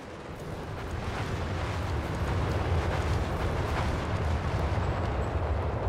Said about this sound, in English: Bombing strike coming in again.